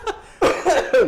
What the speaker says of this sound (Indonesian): kok gue batuk?